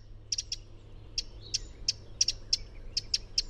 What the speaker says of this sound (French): le cri du troglodyte mignon, un tout petit oiseau qui se faufile dans les branchages à même le sol